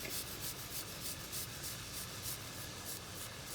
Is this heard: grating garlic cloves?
yes